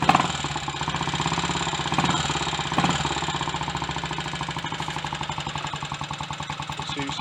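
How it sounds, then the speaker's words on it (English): A rebuilt Triumph Tiger Cub motorcycle engine runs steadily after a top-end refresh, its close, loud, even exhaust pulses thrumming without a break and swelling briefly a few times. "It seems to be running okay."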